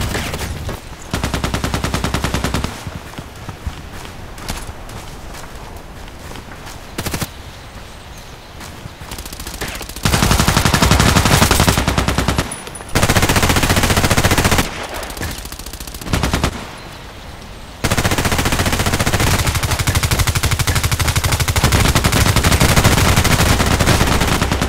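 KAC PDW rifle fire in the Contract Wars shooter game: loud, close bursts of automatic fire that start and stop in several long runs, separated by quieter gaps with no talk.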